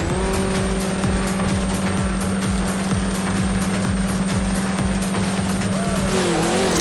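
Drag race cars at the line hold a loud, steady engine drone with a rapid pulsing rhythm, and the pitch rises sharply at the very end as they launch.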